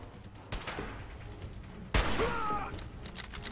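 Gunfire from shooting at enemies in the video game Fallout 4, a sharp loud shot burst at mid-clip after a few fainter reports, with a lingering game-noise tail and no talk.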